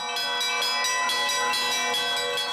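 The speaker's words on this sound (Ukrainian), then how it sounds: "Раз на рік у великодні свята бити в дзвони можуть і звичайні люди." Church bells ring out over the Kyiv-Pechersk Lavra at Easter, struck by ordinary visitors, loud and resonant, with overlapping strikes blending into a sustained metallic chime.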